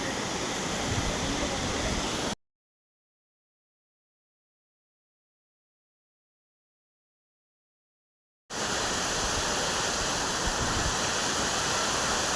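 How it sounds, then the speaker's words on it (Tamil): Steady roaring rush of a waterfall near Manali, broken by a stretch of complete silence in the middle before the roar resumes. "தண்ணி சூப்பராக அருமையாக வந்து கொட்டுது அது அருவி"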